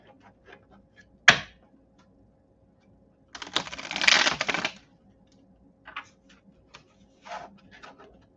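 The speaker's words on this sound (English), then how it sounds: "one more shuffle" Tarot cards being shuffled: a single sharp snap, then a dense riffling burst of about a second, with faint taps and light card handling in an otherwise quiet room.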